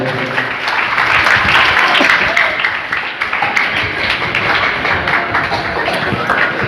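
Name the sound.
audience applause for the questioner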